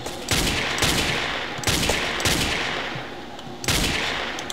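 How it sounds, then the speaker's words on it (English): Bursts of rapid gunfire from guns in the blocky shooter game Ace of Spades, arriving in about five loud clusters separated by short gaps, with no talking over them. "I'm just shooting you, man"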